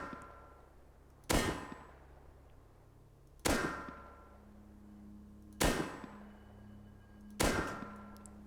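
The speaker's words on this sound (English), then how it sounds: "we'll just take a couple of shots at the target" Four sharp gunshots from a rifle fitted with a muzzle brake in the game Rust, fired at a target, spaced about two seconds apart, each a loud crack with a ringing metallic tail over a quiet hum.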